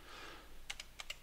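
Keystrokes on a computer keyboard entering an IP address for a Modbus RTU setup: about five crisp, close taps in two quick pairs and a single, after a short quiet pause, with no talking.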